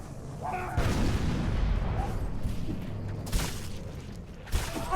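A deep booming explosion rumbles out in the Roblox game Guts and Blackpowder, followed by further thuds and muffled blasts in a noisy battlefield mix.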